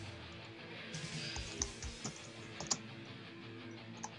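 Quiet, soft keystrokes patter irregularly on a computer keyboard in a room, with a few sharper key clicks standing out over a low background hum.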